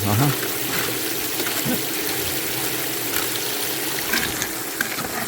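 A steady stream of water flows and splashes continuously as it washes hillside paydirt during gold prospecting, loud and close, with faint scraping and swishing over the constant rush.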